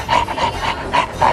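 A person imitates a dog's voice with a run of five panting, raspy bark-like bursts, close and fairly loud, spaced in an uneven rhythm.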